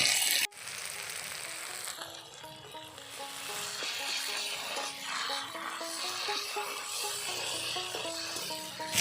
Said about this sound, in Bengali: এবার লঙ্কা বাটা দেব।